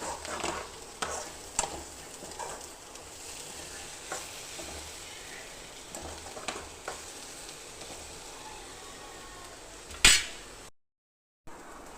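Onions fry and brown over a low flame for tamarind chutney while a spoon stirs them in the pan, making a continuous soft sizzle broken by repeated light scrapes and clinks and one sharper metallic knock near the end.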